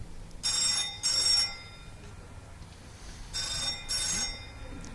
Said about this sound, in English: There goes the phone going off.